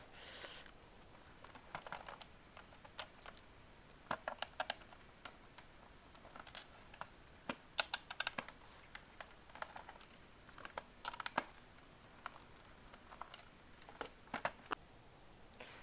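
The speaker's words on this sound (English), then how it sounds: "So first thing you got to do is take the four Torx T10s off." Four Torx T10 screws come out of a 2007–2014 GM instrument cluster, with faint, sparse ticks and small clicks of the driver and plastic scattered through a quiet stretch.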